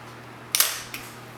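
A camera shutter fires once at 1/1000th of a second in a quiet room. It gives a sharp double click, a snap followed by a softer second click about a third of a second later, with no other sound around it.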